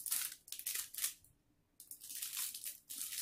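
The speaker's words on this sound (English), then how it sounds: "just to cut this open at the bottom" Scissors snip and slice through the bottom of a doll box, a series of crisp cutting bursts that pause for a moment of near silence before resuming, close and fairly loud.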